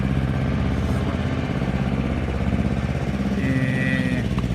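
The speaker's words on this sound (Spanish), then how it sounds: "Lito, ahí justo nos pasa el tractor que nos está tomando el sonido" A tractor passes close by, its engine a steady loud mechanical rumble with clattering, a brief higher whine near the end.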